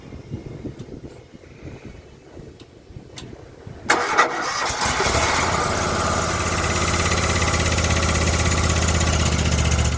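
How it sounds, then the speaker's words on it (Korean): A 35-horsepower Cleantop machine's engine cranks with a few clicks, catches at about four seconds, then settles into a loud, steady, close idle drone that continues to the end. "한번 시동 걸어 볼게요."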